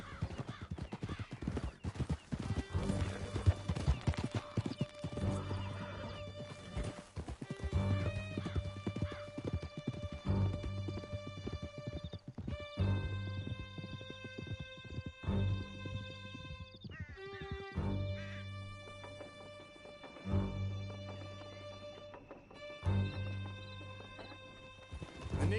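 Horses galloping hard in Red Dead Redemption 2, with fast continuous clip-clopping hooves, occasional whinnies and a musical score throughout, fairly loud and steady for the whole run, with no voices heard.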